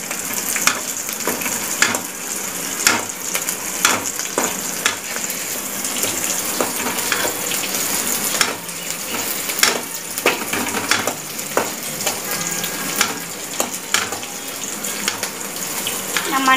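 Onions and tomatoes sizzle and fry in a pan for masala Maggi noodles while a spoon scrapes and stirs in frequent strokes, a steady close crackle throughout.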